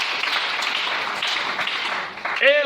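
Church congregation breaking into steady applause, a dense wash of clapping that holds for a few seconds, with a voice joining near the end.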